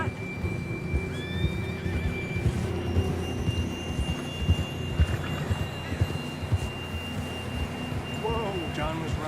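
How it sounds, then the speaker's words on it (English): A horse in the Red Dead Redemption 2 video game gives a clear, loud whinny over a steady in-game background hum and faint tonal ambience, standing alone without talk. "John was riding that horse when we left Blackwater."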